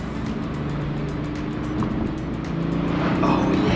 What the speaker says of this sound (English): when you downshift, instead of taking off immediately, you have to let the boost build